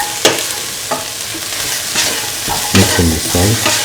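Vegetables such as beans and carrot are stirred through a hot pan with salt, a spoon scraping steadily over loud, close sizzling, with no voices.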